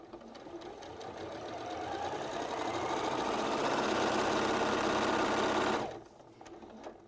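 A sewing machine runs a quarter-inch seam with a quarter-inch foot, a steady close mechanical whirr that ramps up over a few seconds, holds fast and even, then stops abruptly.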